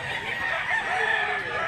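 A Tiger Hini gamecock crows close by in a single sustained call, its voice bright and strained, while faint background noise persists underneath.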